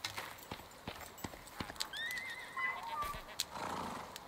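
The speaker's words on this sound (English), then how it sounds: "Oh, Terror Horse, where is it?" A Terror Horse in the survival video game Icarus, faint hoofbeats clopping in an uneven rhythm, then a neigh partway through, quiet and somewhat distant, with no talking.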